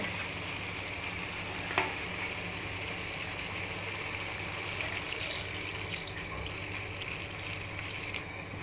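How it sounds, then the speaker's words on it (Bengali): Water is poured into a pan of frying potato and eggplant for a rui fish curry, giving a steady hiss and sizzle mixed with running liquid throughout. "এখন আমি ঝোলের পানি দিয়ে দেব।"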